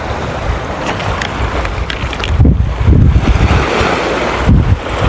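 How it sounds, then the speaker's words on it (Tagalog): Large ocean waves surging and crashing near a cruise ship on a rocky shore in the British Virgin Islands, heavy rolling swells with wind buffeting the microphone and loud bursts as waves break. "Laki ng alon."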